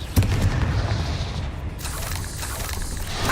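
A Confringo fire spell explodes in the Hogwarts Legacy video game, a single deep boom at the start that trails into a rumbling, crackling roar lasting a few seconds.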